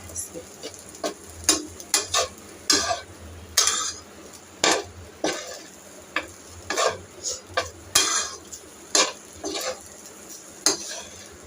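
Rice with egg is stir-fried in a pan at home. A spatula scrapes and clanks against the metal pan in a steady, repeated rhythm over a soft sizzle, close and fairly loud.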